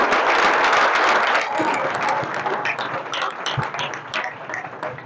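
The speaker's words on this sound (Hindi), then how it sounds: "उसके लिए ताली बजाओ एक बार।" An audience breaks into a loud burst of clapping that holds briefly, then tapers off into scattered, fading claps and room noise.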